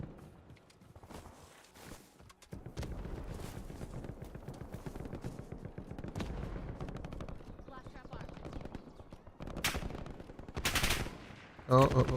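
Bursts of automatic gunfire from an enemy squad in a first-person shooter video game, rapid volleys recurring throughout with footsteps and game effects, under a player talking over it.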